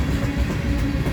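A freight train with new Greenbrier-built railcars rolls past near Blair and Fremont, Nebraska, a loud, steady rumble and rattle of wagons close at hand with no talk.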